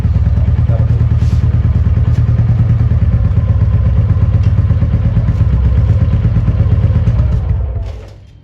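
A motorcycle engine runs close up with a fast, even thumping idle and some mechanical clatter while its chain is being cleaned with spray, then winds down as it is switched off at the end.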